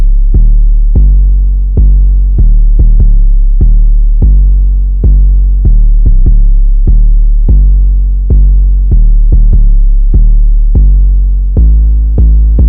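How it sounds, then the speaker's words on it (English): An 808 bass pattern programmed in FL Studio for a beat, busy booming sub-bass hits in a bouncing rhythm, loud and alone with nothing else over it. "The 808 pattern itself, it's quite busy, I'd say."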